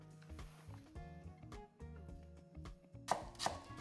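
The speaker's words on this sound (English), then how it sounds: "We'll just give this onion a quick rough chop" A knife rough-chops an onion on a board, giving a run of quick, close, rhythmic thuds, with a couple of sharper knocks near the end and no talking.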